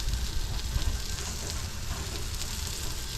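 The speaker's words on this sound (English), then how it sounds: "Yes, it's sizzling and it shrunk." Constant crackling sizzle of asparagus roasting in a hot oven, a dense fizzing hiss with soft pops, close and unbroken by talk.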